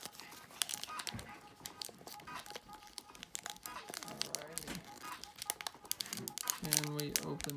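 The foil wrapper of a three-card Pokémon pack crinkles and crackles close up as someone struggles to tear it open, a dense busy rustle with a person talking over it.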